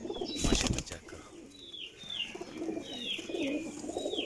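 A golden female pigeon coos softly and repeatedly at close range, with a brief burst of wing flapping near the start.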